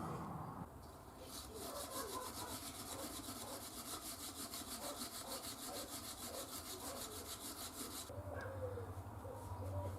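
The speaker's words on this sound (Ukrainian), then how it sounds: "а потім щіткою ще пошкрябати, де не достав" Rapid, rhythmic back-and-forth scraping rasps close by for several seconds, a stiff wire brush worked hard against a VAZ 2109 car's metal wheel rim after angle-grinder cleaning.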